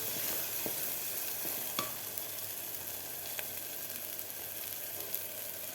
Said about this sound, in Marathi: व्यवस्थित आपल्याला परतून घ्यायचं आहे पण मस्त आपला मसाला परतून झालेला आहे